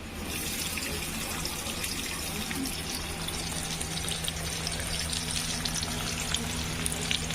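Chopped onion fries in a pan with curry leaves, giving a steady, even sizzle and hiss that runs unbroken and fairly close throughout.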